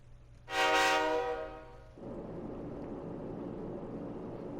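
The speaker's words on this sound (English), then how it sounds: "Inside the New City passenger train" A passenger train in Persona 3 Portable sounds a loud, sustained horn blast that fades, followed by a steady rumbling roll of the carriages along the track.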